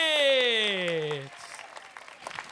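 A studio audience on an Indonesian comedy talent show applauds a finalist from Jakarta. Light, scattered clapping starts after a loud, drawn-out, falling voice call, stays fairly faint and picks up slightly toward the end.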